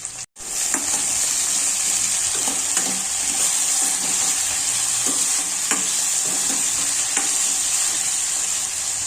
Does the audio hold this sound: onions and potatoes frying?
yes